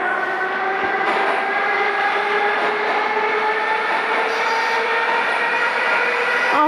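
Metro train driving in a subway simulator video game, a steady loud rumble of rolling cars with layered motor whine throughout, no voices.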